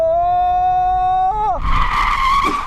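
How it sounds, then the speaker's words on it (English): Car doing donuts: a steady tonal whine bends downward, then breaks into a loud, sustained tire squeal and skid lasting about a second, close and alone. "I guess that's sort of doing donuts."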